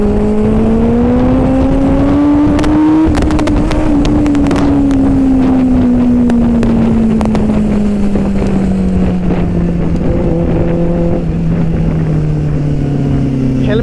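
A Benelli 600i motorcycle on the move gives a loud, steady engine drone that rises briefly and then slowly falls in pitch, heavily mixed with constant rushing wind noise throughout.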